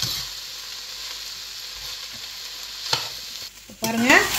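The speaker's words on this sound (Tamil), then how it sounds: "இதை எல்லாத்தையும் மிக்ஸ் பண்ணிக்கலாம்." Fried rice being tossed and mixed with chilli sauce in a hot pan, a steady sizzle with scraping spatula strokes, then a few louder clanks near the end.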